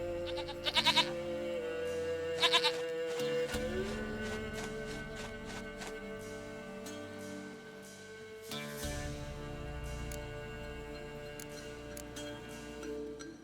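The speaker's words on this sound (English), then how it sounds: "Goat of mine, dearest, sweetest goat." A goat bleats in The Witcher 3, two sharp bursts early followed by ticking and a low sustained game soundscape with further clicks.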